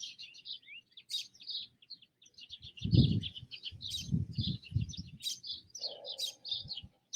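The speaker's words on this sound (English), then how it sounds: "you probably can hear the sounds of these incredible birds" Birds chirp and tweet steadily in the open air at sunrise in Hawaii, high busy calls overlapping from several directions, with some low rustling and a brief hum underneath.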